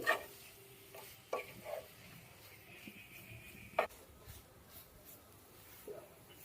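A sugar and coconut mixture for white coconut laddu is stirred in a pan, giving soft scraping and occasional spatula knocks over a faint low sizzle, quiet and close with no talking.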